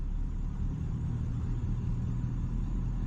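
A tuned diesel truck engine on an OBS pickup running at a quiet idle setting, with a steady low rumble that holds even and continuous throughout, close and without voices.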